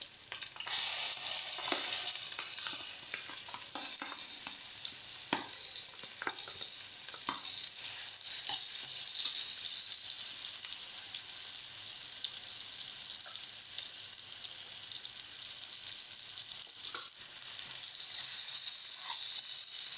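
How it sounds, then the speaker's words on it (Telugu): Masala sizzles steadily in a pan with green chilies, onions and curry leaves for a stuffed brinjal curry, a continuous close frying hiss with occasional stirring clicks and no talking. "ఇప్పుడు నేను తయారు చేసుకున్న మసాలా దీంట్లో వేసేస్తున్నామండి"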